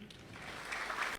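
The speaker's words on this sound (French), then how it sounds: "dirigée par M. Pape Thialofal, que je vous demande d'applaudir." Brief applause from an audience at the formal opening session of the 31st regional customs experts' meeting of the World Customs Organization's West and Central Africa region, a short soft patter of clapping.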